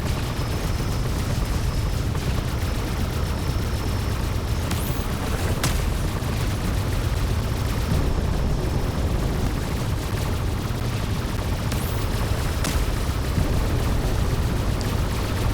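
Loud, continuous barrage of rapid spaceship cannon fire in a video game, with booming blasts and occasional sharp zaps, a dense unbroken roar throughout.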